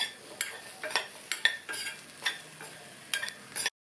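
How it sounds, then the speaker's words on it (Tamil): A spoon stirring spice powder into chickpea sundal in a pan, a series of sharp scraping and clinking strokes in an irregular rhythm over a faint sizzle, close up with no voices. "சேர்த்ததுக்கப்புறமா நல்லா கலந்து விட்டுருங்க"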